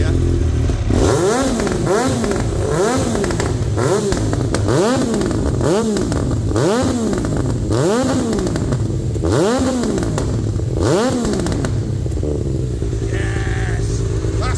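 Triumph Daytona T595 Triple motorcycle with a Quill exhaust revving hard, a series of loud rising and falling throttle blips with crackling pops, close up and continuous.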